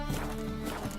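Hooves of Roach, Geralt's horse in The Witcher 3: Blood and Wine, on the move, a steady rhythmic clip-clop at moderate volume over a constant game background hum.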